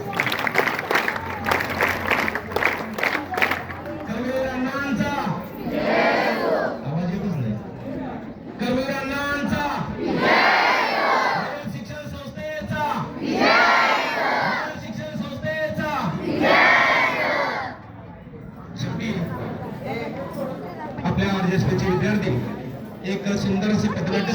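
A theatre audience at a stage play roars in repeated waves of clapping, shouting and cheering, loud and close, with voices mixed through the crowd noise.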